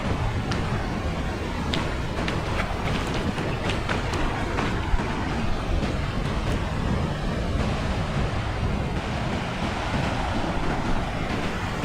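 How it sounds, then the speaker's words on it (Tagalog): Strong sea waves surge and break around a small boat out fishing, with heavy wind buffeting the microphone in a constant, loud roar and no talk over it. "Lakas ng alon."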